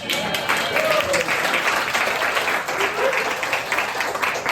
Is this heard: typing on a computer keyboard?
no